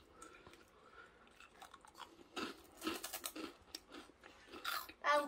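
Someone chews twisted doughnuts, making soft, irregular crunching and mastication sounds close to the microphone, with quiet pauses between bites and a few louder crunches near the end.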